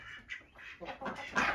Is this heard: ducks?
yes